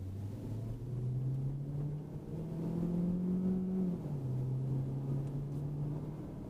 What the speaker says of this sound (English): a muted sound of a gas engine revving as it normally would in any other car